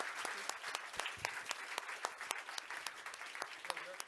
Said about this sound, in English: why don't we round it up with one big applaud?